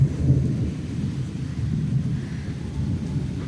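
Deep thunder rumbles and rolls continuously, low and heavy, with a soft wash of rain underneath throughout.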